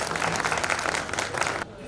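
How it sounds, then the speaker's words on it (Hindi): Audience at a Lodha Samaj Shiksha Foundation 2024 community program applauding to welcome a newly elected foundation president, a dense, steady patter of many hands that fills the room, then drops away abruptly near the end. "जरा ताली बजाकर स्वागत कर दो।"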